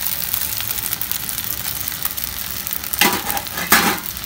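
Soaked sabudana tipped into a pan of fried potatoes on low flame, giving a steady oily sizzle with two louder bursts of scraping and stirring near the end.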